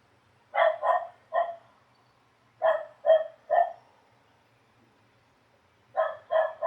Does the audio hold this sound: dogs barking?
yes